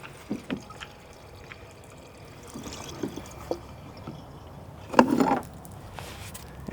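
Diesel trickling and dripping from a leaking red jerry can, faint splashes and a short louder pour burst near the end over quiet outdoor background.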